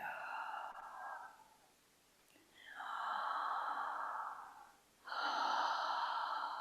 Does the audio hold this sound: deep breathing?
yes